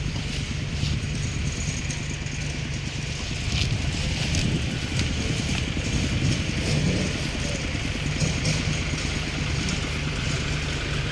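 A Kubota L3218 SP tractor hauls large oil palm bunches, its engine giving a steady close low drone throughout with wind noise and no talk.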